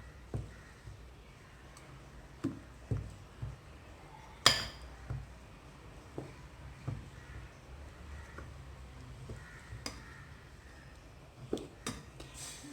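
A spoon clinks sharply against the side of a pot while adai batter with hing is stirred and mixed, giving scattered taps and clicks at an uneven rhythm over a low, quiet background.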